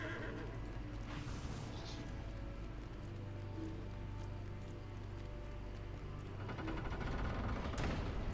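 A horse whinnies in the online game Lord of the Rings Online amid battle noise, with a high neigh early on and another near the end over a steady din of combat sounds.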